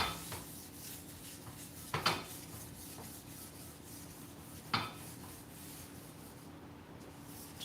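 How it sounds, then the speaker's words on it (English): A cloth or paper towel rubbing over a messy cast iron pan to wipe off leftover bacon grease, soft scraping strokes with a few sharper scuffs, quiet and close. "Just gonna wipe our bacon butter off and let that be a nice little bacony seasoning on our very messed up pan"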